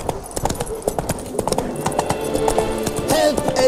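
Roach, the horse in The Witcher 3, trots along with steady clip-clop hoofbeats, close and fairly loud, under a busy layer of game sounds and music with a brief whinny-like lift near the end.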